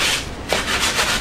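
Sandpaper rubs steadily over the wooden handle of a wheel hoe, giving a continuous, close, gritty scratching with slight stroke-by-stroke swells and no voices.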